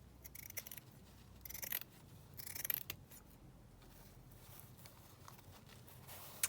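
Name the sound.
scissors cutting paper for a junk journal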